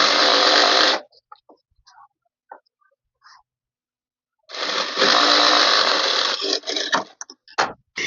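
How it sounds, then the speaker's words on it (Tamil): A sewing machine stitches a straight one-inch pant hem in loud bursts, running for about a second, pausing amid small clicks, then running again for nearly two seconds before choppy short stops. "இந்த 1 இன்ச்சுக்கு வந்து ஸ்ட்ரைட்டாக ஸ்டிச் பண்ணிடுங்க"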